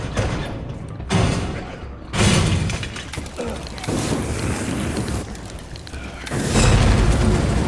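Explosions in the Resident Evil 2 remake's Ghost Survivors mode. Several heavy booming bursts with crashing debris come in uneven waves over continuous game noise, loud and close.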